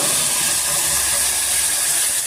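Ground onion, cinnamon and clove masala hitting hot oil in a pan, a loud, steady broadband hiss and sizzle that fills the whole stretch without a break.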